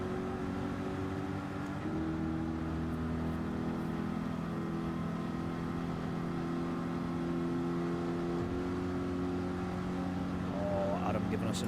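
A Bugatti engine drones in a Gran Turismo 7 race in wet weather, running steady, with its pitch stepping up and down as the car shifts and steers through corners, while someone talks quietly over it.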